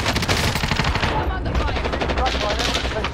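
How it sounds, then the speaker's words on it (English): Rapid automatic gunfire in a video game, dense, loud and continuous for a few seconds, with game sounds layered over it. "I'm under fire."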